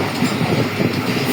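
The Sir Syed Express passenger train runs on rails in rain near Lala Musa, a steady close rumble with rhythmic clatter of wheels and no voices.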